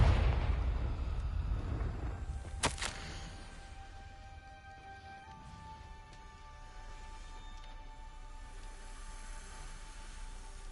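A Confringo fire-blast spell in a Hogwarts video game sets off a loud rumbling explosion that rolls and fades over several seconds, with a sharp crack partway through and a quiet hum afterwards.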